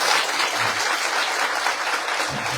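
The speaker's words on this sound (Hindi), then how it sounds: "तो महाराज जी के लिए ताली बजाओ एक बार।" An audience claps together at a devotional gathering, dense and steady applause filling the short stretch up close.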